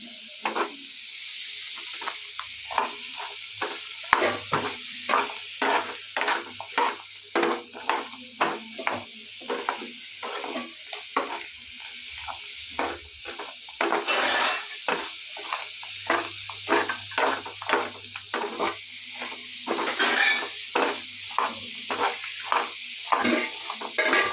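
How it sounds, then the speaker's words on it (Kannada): Rock salt fried over a low flame while a spoon stirs it in the pan: steady, rhythmic scraping strokes over a soft, continuous sizzle, close by and fairly quiet, with no talking. "ಸ್ವಲ್ಪ ಕಲ್ಲುಪ್ಪು ಚೆನ್ನಾಗಿ ಸಣ್ಣ ಉರಿ ಕೊಟ್ಕೊಂಡು ಫ್ರೈ ಮಾಡಬೇಕು ಚೆನ್ನಾಗಿ"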